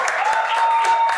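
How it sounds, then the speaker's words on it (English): A brief burst of crowd applause rises at a launch event as a speaker is welcomed, with a steady patter of clapping and a faint tonal hum running underneath. "Please, with the loudest cheers, let's welcome Mr. Michael."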